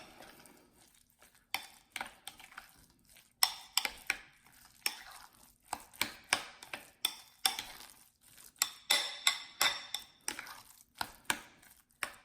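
Guacamole with jalapeno, cilantro and onion being mixed in a bowl: a run of sharp utensil clicks and scrapes against the bowl, irregular at first, then settling into a steady stirring rhythm, close by with no talking.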